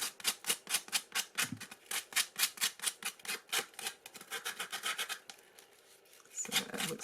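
Hand sanding of a small craft piece, a steady run of rhythmic scratchy rasping strokes close by, fast and regular, trailing off into a quieter pause before a few final rubs.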